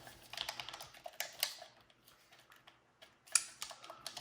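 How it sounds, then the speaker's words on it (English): Buttons of a PS4 controller being pressed and clicking into place in a newly customized shell, a quick irregular series of close, crisp plastic clicks with brief pauses between them. "And this is clicking in well."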